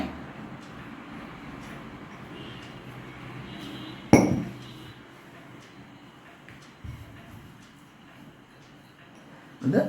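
A spoon mixing a glycerin face pack in a small bowl gives two sharp clinks, one midway and one at the very end, over a low steady background hum.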